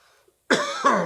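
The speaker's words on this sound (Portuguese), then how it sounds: "Como até uma tosse, né?" A single loud cough bursts out after a short quiet pause, harsh and close, followed by a second rough cough-like exhale.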